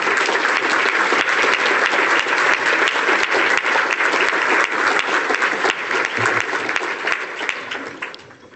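An audience applauding to welcome the University of Toronto president to the stage at a talk, a loud sustained burst of clapping from a large crowd that tapers off toward the end.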